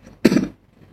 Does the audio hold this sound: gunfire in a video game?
no